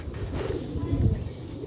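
Silver-breed pigeons kept on a rooftop coo in low, throaty, rolling calls, several birds close together and repeating over a murmuring background.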